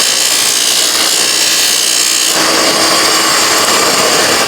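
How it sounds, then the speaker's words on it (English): Steady, loud abrasive rubbing of sandpaper or a sanding tool on a wooden rifle stock, continuous and close with a slight shift in texture midway. "Okay, all done my sanding and polishing"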